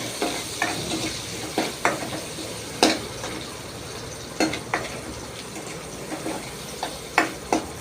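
Boiled egg pieces with onion and salt sautéing in a pan, a continuous sizzle broken by repeated scraping strokes of a spatula, close and moderately loud with no voices.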